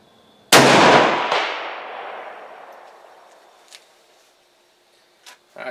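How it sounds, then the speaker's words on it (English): A single loud rifle shot fired at a target 200 yards away through an ATN X Sight II scope, a sharp blast followed by a long rolling echo that decays over several seconds, with faint clicks afterward. "We'll get lined up on that target and take a shot."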